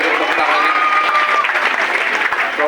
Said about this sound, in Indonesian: Tepuk tangan untuk Liwa ini ya.